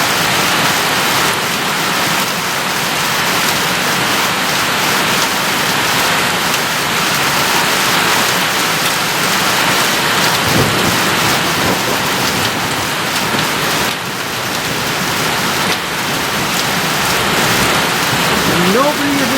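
Heavy rain pours down steadily and loudly on a farmyard, a dense, constant hiss of water hitting surfaces close by.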